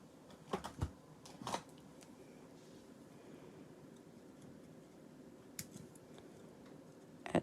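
Scissors snip through card stock while trimming the bottom of a handmade card, two or three short crisp cuts near the start and another pair at the end, quiet and close with a low room hum in between.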